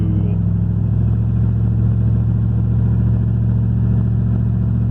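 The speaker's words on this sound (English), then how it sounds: "Stationary revving it" A Ford Bronco's engine, running lean and suffering exhaust leaks, is revved while the truck sits stationary, giving a steady, loud, close-up mechanical drone with a low rumbling pulse throughout.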